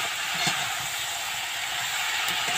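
Water poured into a hot pan of puimichuri, a Bengali Malabar spinach dish, gives a steady broadband hiss and sizzle of steam that holds evenly throughout, close and fairly loud, with no talk over it.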